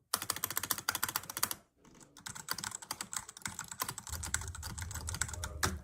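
Fast typing on a Sabloot 60% mechanical keyboard, close up, with dense rattling clacks, a brief pause, then more rapid keystrokes.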